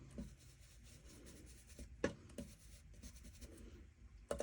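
Distress ink applied to the edges of watercolor paper for a tag, a quiet dry rubbing and scraping with a few sharp taps and scuffs, close and alone.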